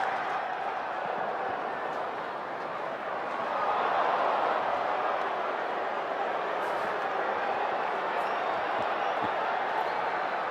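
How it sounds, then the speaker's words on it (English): The crowd at a Dodgers baseball game in Los Angeles against the Colorado Rockies gives a broad, sustained roar with some booing, swelling midway and holding steady, heard at a distance. "Some boos at times."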